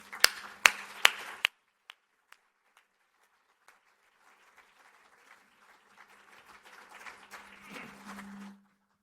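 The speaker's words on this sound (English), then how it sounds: "Please give him a round of applause." At an awards ceremony, a few sharp, close hand claps ring out, then scattered sparse claps give way to a growing murmur of audience applause and crowd noise.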